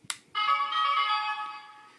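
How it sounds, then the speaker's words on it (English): A Kaizoku Sentai Gokaiger Gokai Gun roleplay toy plays its electronic ringtone through a small built-in speaker, a bright steady tone lasting over a second and a half after a brief click, loud and close with no talking. "So you get the same ringtone that the Mobiles and all the other roleplay gear so far has."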